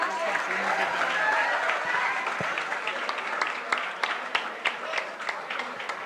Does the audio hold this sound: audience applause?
yes